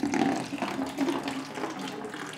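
Water gushing steadily from a siphon hose into a bucket in a kitchen aquaponics setup, a close, continuous splashing pour that stays fairly loud throughout.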